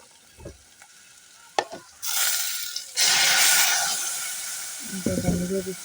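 Spices frying and being stirred in a hot pan give a loud, steady sizzle with scraping strokes, starting after a brief quiet stretch, while a voice speaks briefly near the end.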